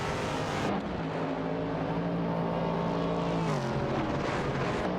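Race cars including a Cheetah GT and a BMW M1 Procar in a racing video game, engines whining loudly and continuously with pitch shifts as they shift gears, no voices.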